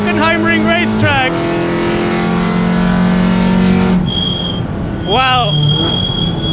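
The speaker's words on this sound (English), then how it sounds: "I'm taking a taxi lap in the Golf GTI" VW Golf GTI TCR race car lapping the Hockenheimring, the engine loud and close from inside the cabin, rising through revs with sharp gear changes and a drop in pitch near the end before climbing again.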